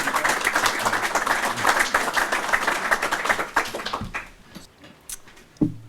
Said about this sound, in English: Could I have a hand of applause for Brian Looby?